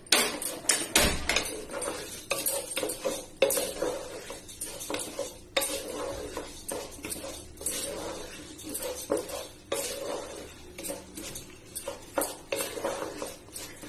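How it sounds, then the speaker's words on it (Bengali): Long-grain pulao rice being stirred and fried in a pot, with repeated close scraping and clattering of a spoon against metal over a light sizzle, in irregular bursts. "এবার চাউলটা ভেজে নেব ভালোভাবে।"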